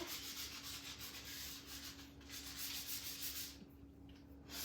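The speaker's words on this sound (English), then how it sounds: "gonna help me sand everything" Steady rubbing strokes of sandpaper on a wooden workshop sign, a continuous close scratchy hiss with a faint hum underneath and no voices.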